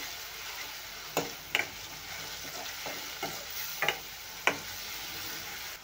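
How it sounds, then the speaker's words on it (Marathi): Green masala paste frying in oil with onions for a fresh green peas aamti, a soft steady sizzle broken by several sharp spoon scrapes and taps against the pan. "आपण घालूया हिरवं वाटण आणि यालाही तेलामध्ये भाजून घ्यायचे"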